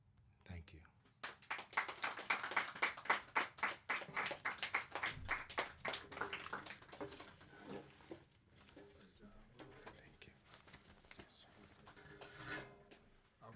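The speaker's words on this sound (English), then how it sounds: "another round of applause for Pharaoh Brooks." Scattered clapping follows a spoken word poem at a reading by system-impacted poets and writers. It runs as a moderate burst for several seconds, then thins out and fades under faint room murmur.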